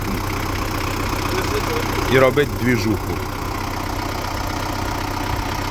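A tractor engine idles steadily with a low, continuous rumble throughout, while someone speaks briefly over it midway.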